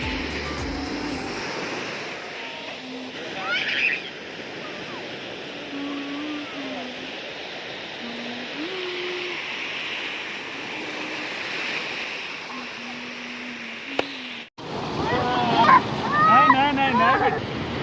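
Sea waves at Murdeshwar beach wash in as a steady broad surf hiss, with faint background voices and soft tonal sounds over it, then a louder burst of close noise near the end.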